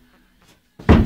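A glass fibre fishing boat's cabin door, being restored, opens with a faint creak and then shuts with a single close, solid thunk.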